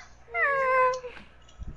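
One clear, drawn-out cat meow rises and holds for roughly half a second, close and distinct, then fades into quiet with a small thump at the end.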